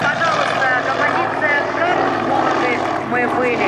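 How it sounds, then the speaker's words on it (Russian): A propeller plane built in wartime drones loudly overhead at an airshow near Mochishche, its steady engine roar dominating while an announcer speaks over a public address system. "Напоминаю, что это самолет, созданный во время войны."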